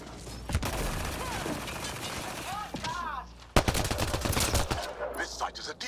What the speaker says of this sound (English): What are you guys shooting?